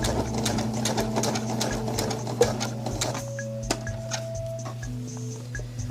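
A sewing machine runs continuously while stitching a chiffon hem on a formal dress, a steady mechanical whir with rapid ticking needle strokes, close and clear with no talk.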